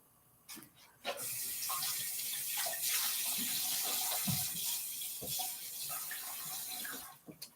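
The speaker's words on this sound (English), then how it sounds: "So I'm rinsing off the zucchini." Tap water rinsing zucchini at a kitchen sink during a cooking demonstration, a steady close gush that starts after a short pause and runs on with small knocks and shifts before stopping.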